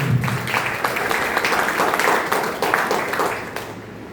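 An audience at a health and wealth awareness program gathering claps for hair care products, giving a brief burst of fairly close, mid-level applause that tapers off toward the end.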